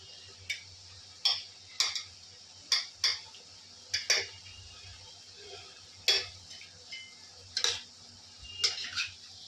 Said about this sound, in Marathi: हे मी हलवून घेत आहे